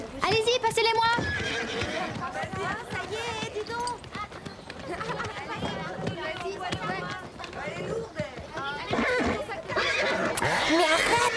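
Horses whinny loudly and hooves clip-clop as horses are loaded onto a truck in a French animated series, with overlapping voices talking and calling out throughout.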